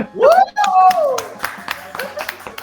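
A crowd at an idol stage event claps in scattered, fairly faint bursts beneath a loud announcer's voice.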